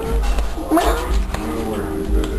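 A house cat gives a brief rising meow in a home, half-buried under a person's affectionate talk and a steady low rumble.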